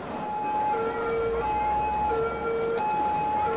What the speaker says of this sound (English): That is noisy, isn't it? What is that? Is that a police car or something?